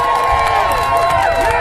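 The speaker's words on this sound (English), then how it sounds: "So please give a round of applause for Miley." Outdoor rally crowd outside USAID headquarters after worker firings cheers and claps loudly, with shouts and whoops carrying over a brief burst of applause close by.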